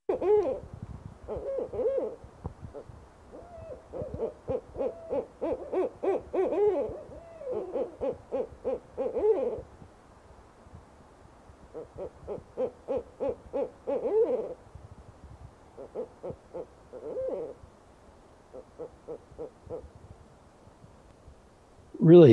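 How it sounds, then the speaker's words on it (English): Two owls trade deep hoots, each call a rhythmic run of soft notes repeated in bursts with short quiet gaps between them, clear against a still night background. "Really nice sounds from those owls."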